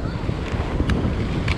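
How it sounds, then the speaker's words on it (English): Gusty wind rumbling against the microphone at a beach, with surf in the background and brief faint hisses; short and fairly loud. "It's a little windy"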